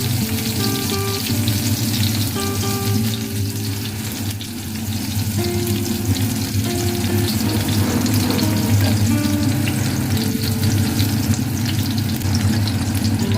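Eggplant rings filled with an egg mixture fry steadily in a pan over a low flame, giving a dense, continuous sizzle with brief scraping stirs, close and fairly loud, without speech.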